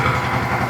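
An Agrale tractor engine idles steadily after a restoration, with a close, even, low mechanical rumble that carries no talk.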